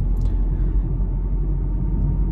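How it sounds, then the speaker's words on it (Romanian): Steady low rumble of road traffic in Buzău heard from inside a moving Dacia Logan, a continuous muffled engine and road drone with no distinct events. "și cam ăsta e traficul din Buzău"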